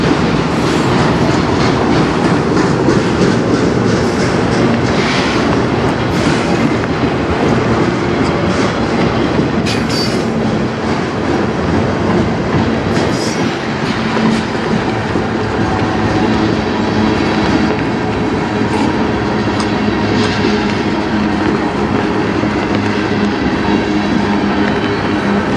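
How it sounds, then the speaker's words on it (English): A train arriving off the Flint subdivision rolls past close by, a loud, unbroken roar of wheels and rattling cars with occasional squeals that holds steady for the whole stretch. "I'm gonna guess it's the 492 because this train came from the Flint sub"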